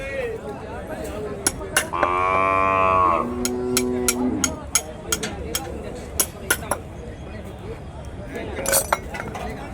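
A bull moos once, loud and close, amid the clinks, knocks and crowd bustle of the Kundarapalli cattle market, where bulls and calves are brought in from the Krishnagiri and Dharmapuri areas, and people talk around.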